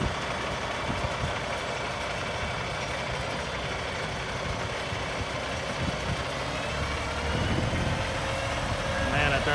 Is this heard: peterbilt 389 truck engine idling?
yes